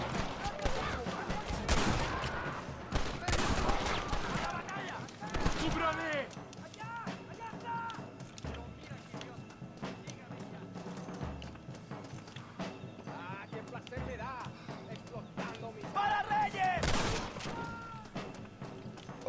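Gunfire in the Western video game Red Dead Redemption set in Mexico, bursts of shots and clip-clopping horses mixed into game sound, heard under a steady stream of talking.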